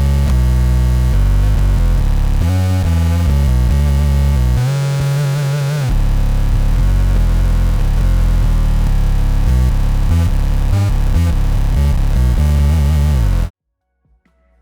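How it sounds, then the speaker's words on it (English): Mono synthesizer run through a Bit Crusher set to 3 bits and 1015 Hz, giving a harsh, gritty digital sequence of stepped tones, loud and continuous, stopping abruptly near the end. "we've added the new Bit Crusher device, and I've got that set at 3 bits and 1015 Hertz"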